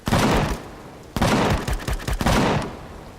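Rapid bursts of cannon fire at drones in Empyrion - Galactic Survival, three loud volleys with short gaps between them, dense and crackling.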